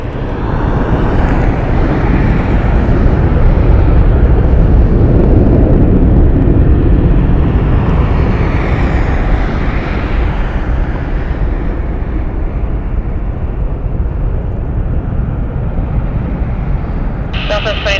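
A Southwest airliner takes off from runway 1 right at Las Vegas Harry Reid International Airport, a loud, steady jet roar that holds for the full stretch and eases slightly toward the end, with voices faintly present.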